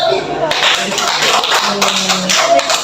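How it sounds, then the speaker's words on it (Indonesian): Students in a school counselling session playing an anti-bullying snakes-and-ladders game break into applause for a classmate, a burst of close, dense clapping that starts after a brief pause and continues with voices mixed in. "Beri aplaus buat Hasan dulu."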